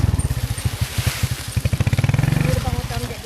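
A motorcycle engine chugs with steady, close pulsing as it is ridden on a rural trip to collect durians, with voices talking faintly over it.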